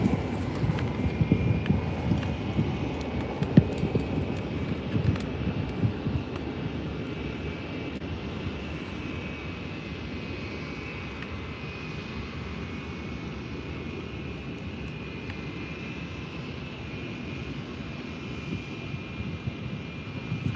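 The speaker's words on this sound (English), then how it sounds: "That was a super late takeoff." An airplane taking off at Faro airport, a sustained roaring engine rumble with a faint whine, loud at first and easing slightly as it continues, heard alone without talk.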